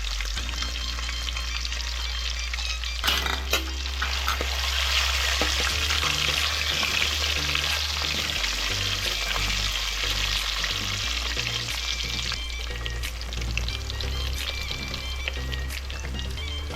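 Roasted onion frying in oil for a crab curry, heard as a loud, close, continuous sizzle with crackling spatter, a brief sharper burst near the start, then steady bubbling frying throughout.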